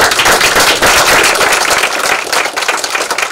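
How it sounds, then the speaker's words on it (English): Loud, dense round of applause from an audience at a candidate forum, rapid close clapping that stays strong before easing slightly toward the end. "Let's give him a nice round of applause."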